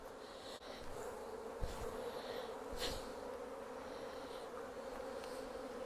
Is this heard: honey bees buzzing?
yes